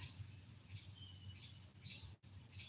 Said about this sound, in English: The bird, that pitch is actually hurting my ears.